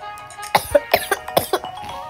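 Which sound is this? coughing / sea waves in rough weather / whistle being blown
coughing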